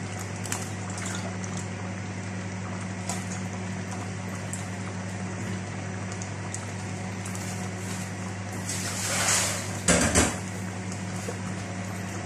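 Ginisang monggo with squash and eggplant simmering in a pot, a steady low bubbling boil with a constant hum, then a brief clatter near the end.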